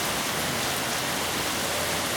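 Rain pours down steadily after a heavy downpour, a dense even hiss of drops on surfaces, moderately loud and continuous with no voices.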